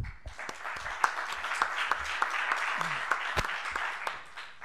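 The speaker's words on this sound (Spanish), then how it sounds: "Un aplauso, un fuerte aplauso para él." Audience applause greeting a speaker about to give a talk on the politics of climate change, steady clapping from a seated crowd with a few sharper nearby claps standing out.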